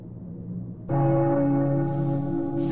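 A bell in an indie horror video game dings once, loud and clear, then rings on as a sustained metallic tone with faint dim sounds beneath it.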